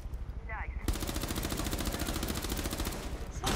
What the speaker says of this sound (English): Just randomly fired at a wall and he's got a headshot.